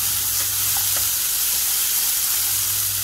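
Moong sizzles and hisses in a pan with poha as it is stirred, a steady close frying hiss with a few soft scrapes of the spoon over a few seconds.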